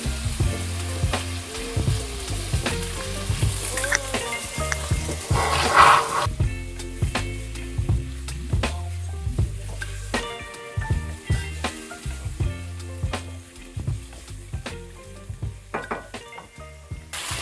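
Cubed chicken breast sizzles steadily in a hot pan for egg noodles, a constant close frying hiss with occasional stirring clinks and utensil scrapes.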